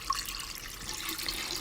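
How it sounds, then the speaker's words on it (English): Juice poured into a pitcher with ice, a steady close splashing and trickling stream at moderate volume with a faint clink near the start, heard on its own without talk. "now I'm adding the juice in here."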